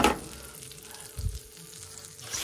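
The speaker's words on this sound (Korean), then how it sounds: "일단 버터를 녹이고요" Butter melting in a pan for scrambled eggs, a soft close sizzle and crackle with a brief stir, no talk.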